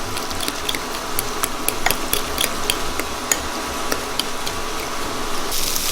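Onions cooking with bone marrow, garlic, pepper and salt are stirred in a pan, giving a steady hiss under irregular light clicks and scrapes of the spoon throughout.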